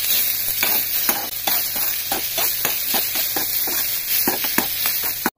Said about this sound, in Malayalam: ഏത്തപ്പഴം അരിഞ്ഞത് നമുക്ക് ഈ എണ്ണയ്ക്കകത്തേക്ക് ഇട്ട് കൊടുക്കാം